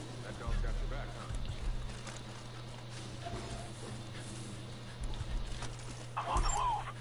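A dog in the game Far Cry 5 gives a few short whimpers and yips amid continuous game sounds, a steady low hum and someone talking over it.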